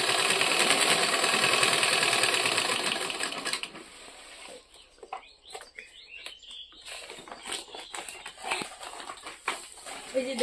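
A sewing machine stitches a bag made from a sack in a loud, rapid burst of a few seconds, then stops, leaving a person talking over light handling noises.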